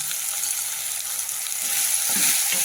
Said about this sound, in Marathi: छान असं परतून घ्यायचं.